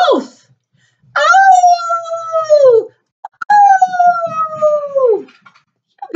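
Children's voices imitate a wolf, producing two long sustained howls that slide downward at the end, loud and close, with a brief spoken exclamation at the start.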